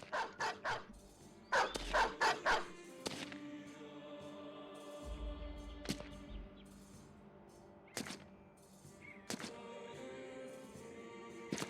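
A pack of dogs barking in a Battle Brothers fight: clusters of rapid barks early on, then scattered single barks over ongoing game ambience and low rumbles, with no talking.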